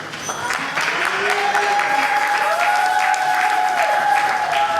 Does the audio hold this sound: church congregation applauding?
yes